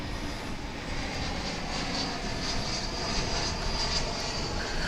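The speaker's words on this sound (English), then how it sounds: "That's an Airbus A321 coming in from Oklahoma City" Airbus A321 airliner coming in to land at DFW International Airport, its engine roar a steady, even wash of noise that holds at a constant level throughout with no voices.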